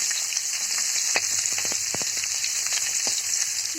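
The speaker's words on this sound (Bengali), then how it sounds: "কাঁচা ঝাল পেঁয়াজ রসুন এখন তেলের পরে দিয়ে একটু গ্রেভি কালার করে ভেজে নিই" Green chili, onion and garlic fry in hot oil, a loud continuous sizzle with crackling spatters and a few stirring scrapes, no voices.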